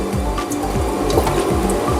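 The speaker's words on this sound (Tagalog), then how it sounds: "Kaya linagay ko lang ito sa tubig." Eggplant dropped into a basin of water while cooking the Filipino vegetable dish dinengdeng, giving a steady close sloshing and splashing with faint knocks throughout.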